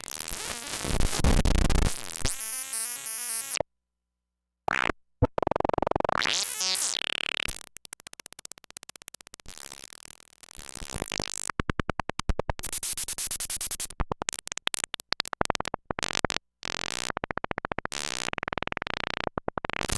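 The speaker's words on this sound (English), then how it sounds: "using a single pulsar generator to generate those sounds" Harsh, glitchy electronic bursts from a Eurorack pulsar synthesis generator stutter and buzz in shifting pulses, broken by sudden silences and jumps in pitch, loud and chaotic throughout.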